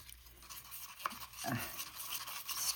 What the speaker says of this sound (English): stirring this up a little